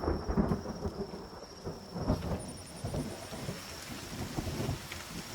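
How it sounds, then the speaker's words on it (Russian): Steady rain with low rumbles of thunder in the video game The Forest, continuous and fairly close, a thin high tone running through the background. "А, и дождик пошел."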